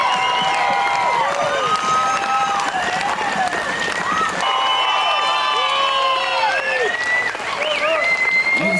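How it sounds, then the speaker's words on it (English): A crowd at an outdoor ceremony applauds Wentworth Military Academy cadets with dense, continuous clapping. Scattered cheers and whoops rise above it, and a voice carries over the noise. "Big round of applause, ladies and gentlemen."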